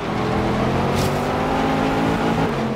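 A Range Rover SV's engine drones loud and steady in Forza Horizon 3, holding a continuous revving tone with a brief burst of hiss partway through, with no talking.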